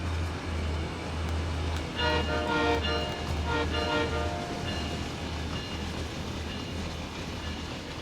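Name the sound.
train driving past in video game Train Sim World 6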